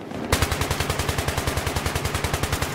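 Rapid automatic gunfire from a defender in a video game shooter on the Grand Bazaar map: a loud, close burst of roughly two dozen evenly spaced shots over a few seconds, with no talking.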